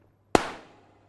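A grenade detonates in the VR shooter Ghosts of Tabor: one sudden, sharp blast that rolls off into a fading rumble over about half a second.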